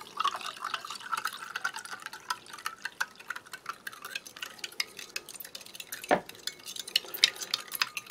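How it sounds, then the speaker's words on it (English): Cold water poured onto powder and a spoon stirring in a container, steady scraping and sloshing with light clinks and one sharp tap, close up with no talking. "And this one we shall top off with some cold water."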